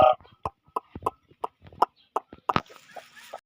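Hens clucking in a backyard coop where one has just laid eggs, short bursts of clucks scattered across the moment, close by, with a person speaking in between.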